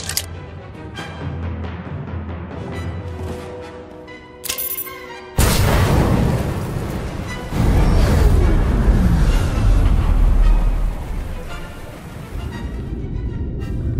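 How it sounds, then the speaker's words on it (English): A large explosion in the video game Star Wars: The Old Republic near an ion cannon, a sudden loud blast followed by a long rumbling roar of debris and fire that slowly fades. "Reports of an explosion near the ion cannon."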